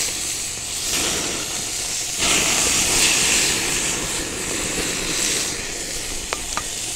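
Flat iron steaks sizzle steadily on a Fuego Element gas grill as they are basted, a continuous hiss with a louder surge partway through and a couple of sharp pops near the end.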